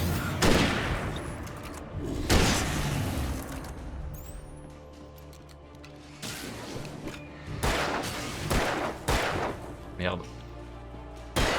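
Several gunshots in the video game Alan Wake, sharp loud cracks spaced a second or two apart with decaying echoes, over tense background tones while someone speaks and swears.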